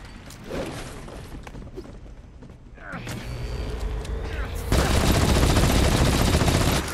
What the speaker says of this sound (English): Is he shooting me from downstairs?